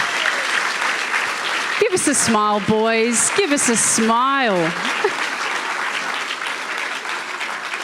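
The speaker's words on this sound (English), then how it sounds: "Give them a big round of applause" An audience at a national grand final event applauds the runners-up, sustained clapping throughout with someone speaking over it near the start.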